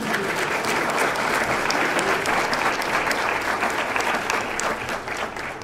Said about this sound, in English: So why do I not hear an applause?